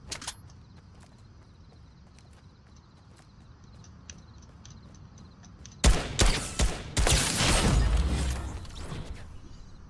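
Burst of heavy gunfire in Fortnite after a quiet stretch, loud, dense cracks clustered over the last few seconds, with a sniper rifle among the weapons in play.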